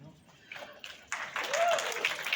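An audience at a convention panel breaks into clapping, starting as a few scattered claps and swelling into fuller applause over a couple of seconds.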